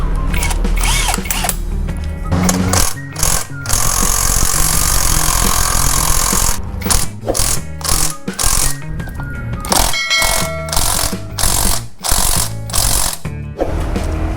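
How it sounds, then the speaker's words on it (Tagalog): An impact wrench with a size 14 socket hammers loudly and up close at motorcycle brake pad bolts on a Yamaha Nmax v2 155 scooter, firing in long rattling bursts broken by short pauses, with no speech. "gamit tayo ng impact wrench size 14"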